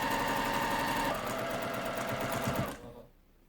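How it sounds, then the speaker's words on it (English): A sewing machine stitches quilt blocks in a fast, steady whirring run, loud and close, then slows and stops near the end, leaving quiet. "I do sometimes stitch very, very slowly up to it, and then I'll slowly stitch over it"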